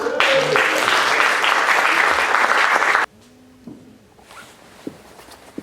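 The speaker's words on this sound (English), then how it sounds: "We've got to keep that applause now." Audience applause welcomes poet Sujata Bhatt at a Black and Asian writers conference, a loud dense clapping for about three seconds that cuts off abruptly, leaving a quiet room with faint shuffles and small knocks.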